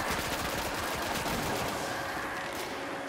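Dense, continuous automatic gunfire from the video game Destiny fills the whole stretch, loud and unbroken, with no voices over it.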